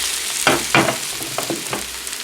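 Breakfast potatoes frying in a pan at home, a steady close sizzle broken by a few louder bursts of stirring and turning, with no talking.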